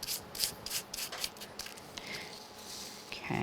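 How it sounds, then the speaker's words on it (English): Rapid rubbing strokes burnish white and holographic glitter onto a craft card, a close, soft scratchy friction repeated in quick uneven bursts, fairly quiet. "I'm going to burnish this in."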